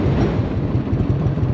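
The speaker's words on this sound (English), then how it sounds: "Hi, train." A train passes on rails with a loud, continuous low rumble and a rhythmic rolling clatter throughout, with no speech.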